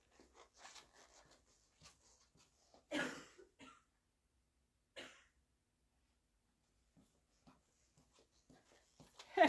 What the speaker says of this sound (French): Oh non, je vais tousser.